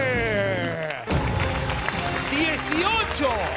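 A TV game show studio audience applauds, with continuous clapping mixed with lively voices and a bright, musical background, loud and close throughout.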